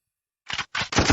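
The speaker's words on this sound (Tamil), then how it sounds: "கட் ஷாட் சவுண்ட் இது" A gunshot sound effect triggered from a condenser microphone's built-in sound pad, heard as three sharp, loud bursts in quick succession after a brief silence, with no voices.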